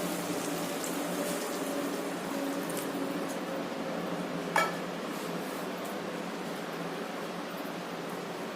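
Cornflour mixed with water is poured into a pan of chilli paneer, a quiet steady watery rush with one sharp clink partway through.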